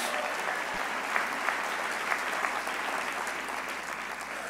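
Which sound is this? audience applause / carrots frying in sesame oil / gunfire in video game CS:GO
audience applause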